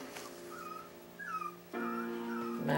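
A light-colored puppy whimpers during nail clipping, giving several high, wavering whines and yips at close range that grow louder and denser toward the end, with no talk over them.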